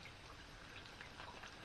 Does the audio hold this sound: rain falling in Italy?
yes